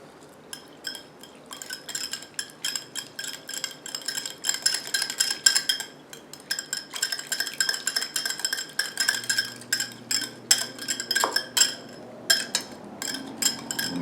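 Close, rapid clinks of a utensil against a bowl as a honey, lemon juice and vinegar dressing with minced pecans is stirred, a steady ringing tapping rhythm that continues throughout with no voice.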